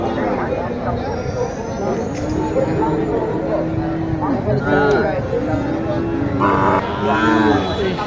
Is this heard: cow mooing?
yes